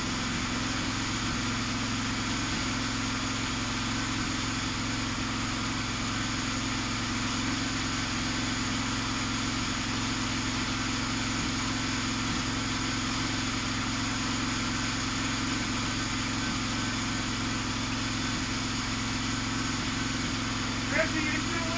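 A car engine idles steadily with an exhaust-driven meat smoker rigged to it, a constant low rumble and drone that barely changes throughout, close and moderately loud with no distinct speech.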